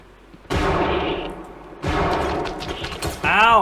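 Gunfire in the realistic first-person shooter Bodycam: several loud, close bursts of shots, with short pauses between them and a metallic ringing tail at the end.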